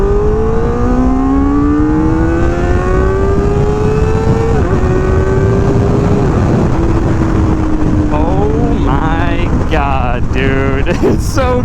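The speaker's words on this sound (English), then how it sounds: "It's going to be weird getting used to how far this revs out coming from a cruiser." A Kawasaki ZX4RR sport motorcycle engine revs high and climbs through the gears on a road ride, loud and close with heavy wind rush, the pitch rising, dropping at shifts and rising again.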